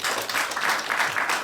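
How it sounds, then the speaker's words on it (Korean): A brief burst of close, full audience applause at an LG Cinema 3D monitor event in a CGV theater, dense clapping swelling in uneven waves. "다시 한번 큰 박수를 부탁드리겠습니다."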